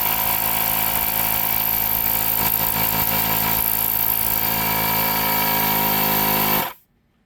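A Milwaukee M12 compact inflator runs loud and steady, a buzzing motor drone with a faint pumping pulse lasting about six seconds before it shuts off abruptly into silence; no voices.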